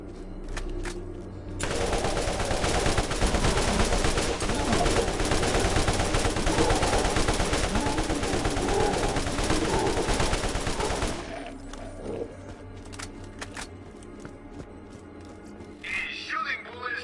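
Borderlands video game gunfire: a long, dense burst of rapid automatic shots lasting about ten seconds, loud and continuous, then cutting off into quieter background sound.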